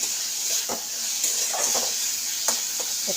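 Tomatoes fry with curry leaves in a pan, a steady close hiss of sizzling broken by several sharp scrapes and taps of a spoon stirring them.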